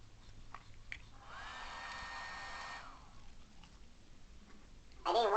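Hair dryer from the Talking Ginger video game, a faint steady whoosh lasting about a second and a half in the middle, followed by a brief squeaky burst from the game near the end.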